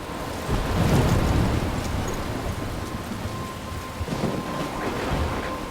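Heavy rain hisses steadily through a thunderstorm in Life Is Strange, with low rolling thunder swelling early and again near the end, close and full.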